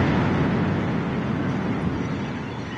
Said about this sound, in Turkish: Birinci patlama oldu.